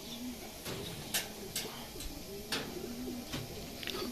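Racing pigeons back at their loft after a 105 km training flight from Lupao, Nueva Ecija, give soft, low, repeated coos. Scattered sharp clicks and taps run through the steady nearby background.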